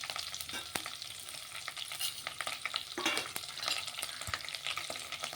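Chana dal, urad dal, mustard seeds, cumin, slit green chillies and curry leaves frying in hot oil, with a continuous close crackle and sizzle broken by sharp pops and spattering.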